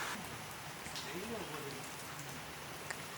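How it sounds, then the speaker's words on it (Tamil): Rain falls steadily on a tent at a hillside campsite in the Western Ghats, Tamil Nadu, a faint, even hiss with scattered drops, while a voice speaks briefly over it. "இங்கே தான் மழை பெய்யுதா?"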